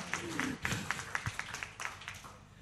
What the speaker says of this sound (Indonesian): oke tepuk tangan dulu dong kalau gitu